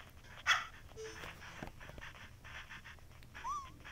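Virtual dogs in the Nintendogs game yip, bark and whimper faintly through a handheld console speaker, small chirpy sounds over low room noise with some background voice.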